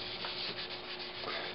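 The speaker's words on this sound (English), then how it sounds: "the more I keep sanding off, the less that'll be left on" Sandpaper rubs steadily across the dyed wooden top of a Les Paul guitar body, a close, continuous scratchy hiss with slight rhythmic swells from back-and-forth strokes.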